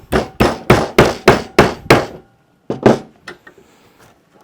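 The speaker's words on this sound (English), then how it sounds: "I'm going to hammer it over 90 degrees." A clamped metal piece is hammered over to 90 degrees in a vise: about seven loud, evenly spaced close metallic blows, a short pause, then a few lighter taps, with no talking.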